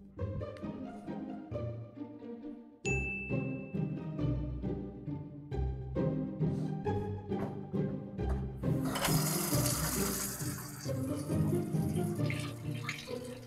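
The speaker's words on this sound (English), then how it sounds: "I'm gonna pour some water on this baddie." Water poured from a tap onto candy: gurgling splashes and clinks at first, then a louder steady rush of running water toward the end, with no one talking.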